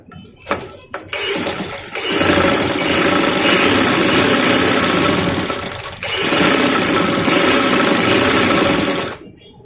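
A sewing machine stitches frock fabric, starting with a few short bursts, then running in long, loud, steady whirring stretches with a brief pause midway.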